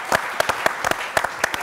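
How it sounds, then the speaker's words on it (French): Applause for guests on a football talk show, a small group clapping in quick, irregular bursts, sharp and fairly close. "On va les applaudir quand même"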